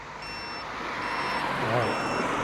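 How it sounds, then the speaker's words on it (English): Three evenly spaced high electronic beeps from a Velotric Summit 2 e-bike turn signal, sounding over wind and low road rumble while riding. "Got our turn signals on. You can hear them there."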